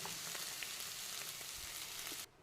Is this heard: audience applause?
no